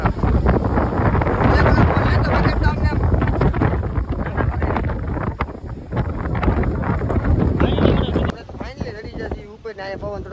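Strong seaside wind near a temple set among the waves buffets the microphone in loud, roaring gusts, with a brief drop near the end, while voices talk faintly underneath.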